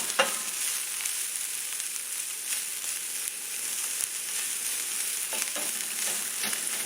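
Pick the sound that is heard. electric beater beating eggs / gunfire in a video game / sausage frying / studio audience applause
sausage frying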